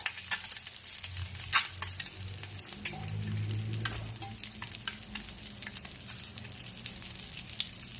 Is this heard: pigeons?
no